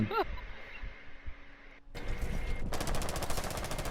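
Gunfire in the video game Rainbow Six Siege, a few sharp shots early, then sustained rapid automatic fire building in the second half, loud and close.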